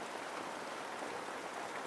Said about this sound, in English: it started raining, unfortunately